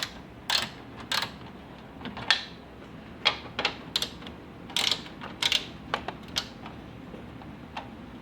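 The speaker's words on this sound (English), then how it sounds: "There's 1, 2 10mm bolts that we got to take out." A ratchet works on 10mm bolts on a Cadillac CTS, giving quiet, irregular clicking bursts spread across several seconds, close but faint, with no voices.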